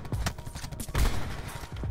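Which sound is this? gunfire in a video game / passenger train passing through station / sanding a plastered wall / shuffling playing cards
gunfire in a video game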